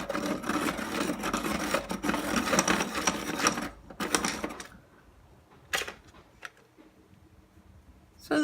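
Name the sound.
Faber-Castell sharpener sharpening Maped Helix colored pencils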